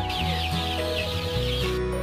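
Sentul chickens cluck and chatter in a cage of starter-age birds, a steady close flock sound running throughout with overlapping calls and no talk.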